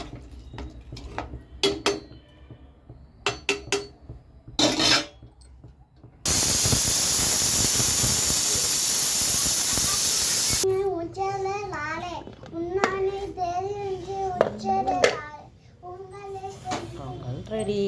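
A spoon clatters against a pot while millet pongal is stirred, followed by a long hiss of steam or sizzling, then someone talking over light clinking, and a lid set down.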